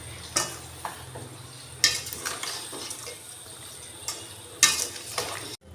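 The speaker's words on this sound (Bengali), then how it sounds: "আমি এরপরে এটা কিছুক্ষণ ফুটতে দেবো, যতক্ষণ না চিনি, গুড় আর আম মিশে এক হয়।" Raw mango chutney with sugar and jaggery bubbling in a pan, a soft continuous sizzle broken by a few spoon clinks and stirring scrapes, close and fairly quiet, no voices.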